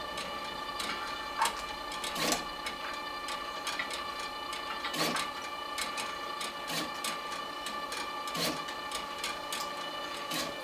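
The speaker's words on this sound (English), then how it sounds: "as the product is moving this way, you want the label to be dispensed a little bit later" A LAB500 label applicator dispensing price labels onto cardboard and paper products, running with a steady mechanical hum and irregular ticking clicks as labels are fed, close up without speech.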